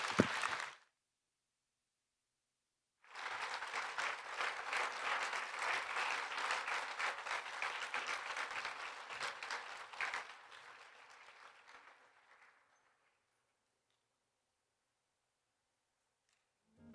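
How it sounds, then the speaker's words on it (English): Applause from a summit audience, a short burst first, then a dense sustained round of clapping lasting about seven seconds before thinning out and fading into silence. "Give her a round of applause."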